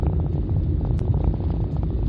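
Engine of a 2007 Citroen Xsara Picasso heard from inside the cabin while driving, a steady low droning rumble with no talking.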